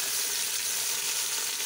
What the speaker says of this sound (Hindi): हमारी मिर्चें फ्राई हो चुकी हैं और अब हम इसमें प्याज, अदरक, लहसुन शामिल करेंगे